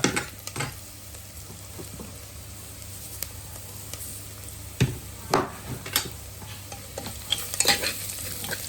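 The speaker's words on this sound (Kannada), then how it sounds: "ಒಂಚೂರು ನೀರುಳ್ಳಿ ಕಂದು ಬಣ್ಣ ಬ್ರೌನ್ ಅವನ ಮುಟ್ಟ ಫ್ರೈ ಮಾಡ್ತದೆ" Onions frying in a pan, a constant sizzle with scraping stirs that grow busier and louder toward the end.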